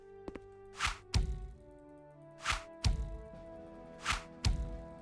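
Weapon fire in the video game Lands of Lore 3: three sharp, loud shots spaced well apart, each a crisp burst followed by a thudding impact, repeating at a slow and steady pace.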